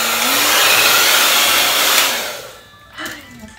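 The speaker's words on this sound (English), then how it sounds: "I'm gonna dry my hair with a normal hair dryer" A standard handheld hair dryer blows loudly and close up with a steady rushing whine, then switches off and winds down, followed by a short burst of airflow near the end.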